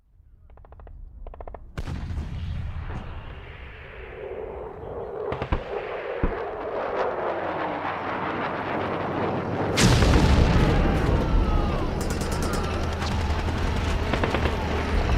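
Radio-drama battle effects of tanks and artillery fire: scattered booms build into a continuous roar of heavy explosions and rumbling, growing louder with a big blast midway, then dense, sustained gunfire and rumble.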